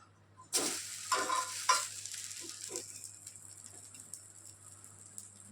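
Coriander seeds, cloves, cardamom, mustard seeds and cumin dry roasting in a pan for chicken pickle, with a few loud stirring rattles early on that settle into a faint crackle in a quiet room.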